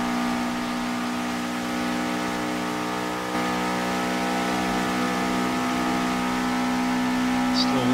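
A car in the racing game Forza Horizon 2 drones at full throttle nearing 300, a steady high-pitched engine whine holding constant and climbing slightly toward the end, loud and continuous with no talk.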